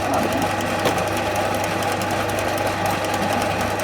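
A power drill bores holes through a budget homemade fishing rod holder, drilling into the side without printed lettering; steady, loud, continuous whirring grind throughout with no talk.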